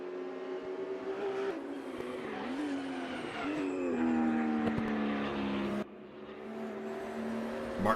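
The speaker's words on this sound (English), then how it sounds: "squealing the brakes a little bit on that particular run through this section of the track" Porsche race cars in a racing video game, engines droning steadily at high revs while brakes and tyres squeal in long drawn tones through a track section, loud and continuous, no talk.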